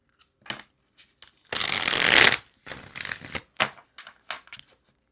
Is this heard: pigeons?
no